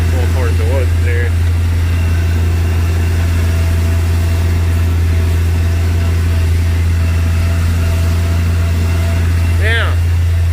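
A tractor engine labours up a steep hill while haying, a loud, unbroken close-up drone that holds steady throughout with only faint higher sounds over it.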